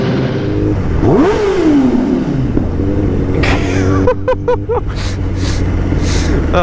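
A 2021 Kawasaki ZX10R SE superbike engine revving in an underpass, a loud rising and falling rev followed by sharp staccato blips and crackles, echoing and continuous, without speech.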